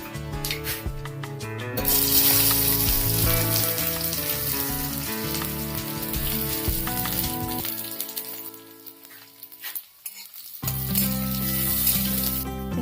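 Cumin seeds and onions sizzle loudly in hot oil in a wok, a steady, dense frying hiss that dips briefly near the end before resuming, with a tonal musical layer running underneath and no speech.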